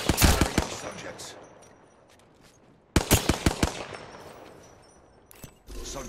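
Apex Legends gunfire in two distinct rapid bursts of close, loud shots, each trailing off into a fading tail, with a further shot near the end.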